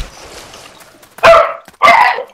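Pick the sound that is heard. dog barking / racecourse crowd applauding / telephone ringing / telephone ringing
dog barking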